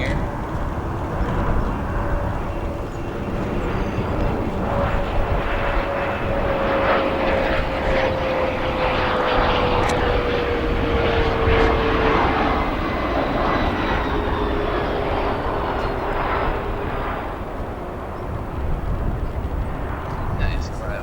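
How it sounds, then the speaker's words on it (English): CRJ 200 jet arriving at O'Hare airport, a loud broad engine roar that swells and holds with a descending whine sliding across it, then gradually recedes, with a voice talking over it. "We have a CRJ 200 that's going to be arriving here."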